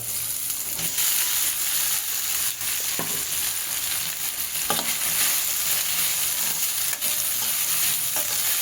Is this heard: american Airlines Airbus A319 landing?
no